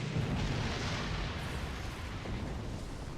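A starship fires a torpedo in Star Trek Online, giving a steady loud rushing roar with an explosive burst-like wash that fades slightly over a few seconds.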